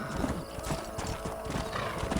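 Horses in the Red Dead Redemption video game, with steady hoof clip-clop and a whinny at moderate volume against a busy outdoor ambience.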